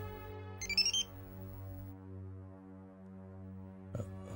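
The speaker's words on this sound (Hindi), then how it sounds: "आ गया सिंघानिया साहब का फोन।" A phone rings with a steady electronic ringtone, a sustained tonal melody with brief brighter chirps near the start and end, clear and alone with no talking.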